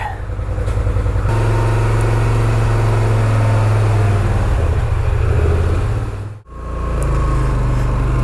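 A Polaris Sportsman ATV engine riding on the road makes a loud, steady low drone with a constant hum, briefly dipping near the end before resuming, close and continuous with no talking.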